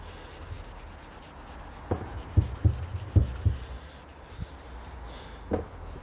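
Fine-grit wet sandpaper rubbing lengthways over a BMW side indicator lens, a close, soft abrasive rasp with a handful of short strokes bunched mid-clip over a quiet background.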